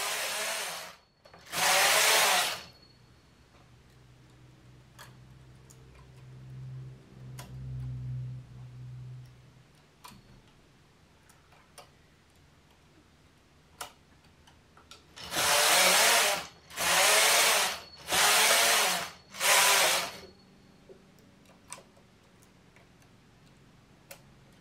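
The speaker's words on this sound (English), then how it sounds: "Then from here, it's just knitting and decreasing up to the waistband." Knitting machine carriage sliding across the needle bed while knitting rows of a pinafore dress, heard as loud, close whooshing passes, two early and four in quick succession later, separated by quiet stretches with a faint low hum.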